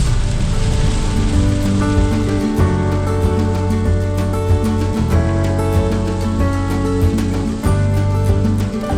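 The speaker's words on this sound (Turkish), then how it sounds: "Şu anda da o hala yağmur devam ediyor." Heavy rain falls steadily and loudly, a dense continuous hiss with scattered drops striking a surface, heard close with a low hum underneath and no talking.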